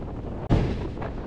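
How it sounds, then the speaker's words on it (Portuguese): A moderate south wind blows across the rocky coast of Santa Catarina, Brazil, buffeting the microphone with a dull, continuous roar and one sudden hard gust-thump near the middle. "Tem o ventinho sul. É moderadinho o vento."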